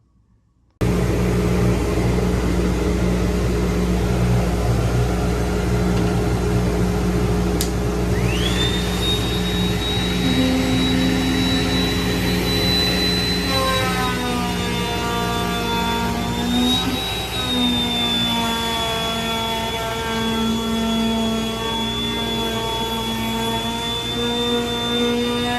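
A power tool planes and sands a walnut dining table top measuring 9 by 4.5 feet, giving a loud, unbroken motor drone with a thin high whine that climbs partway through and then holds steady.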